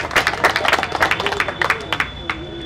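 An audience claps for the club president at the prize ceremony of the Lions Open Cricket Tournament 2024, giving a short burst of scattered, crisp applause that blends with a voice.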